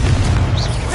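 In Hogwarts Legacy, an Incendio fire spell erupts in a single short, loud, booming blast with a heavy low-end whoosh.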